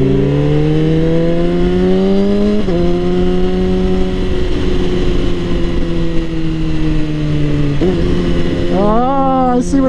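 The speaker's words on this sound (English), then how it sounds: "The engine braking on mine is much more extreme." A Suzuki GSX-R1000 or BMW S1000RR sport motorcycle engine drones steadily with falling pitch as it engine-brakes, with brief shifts in tone and a quick rev near the end, loud and close.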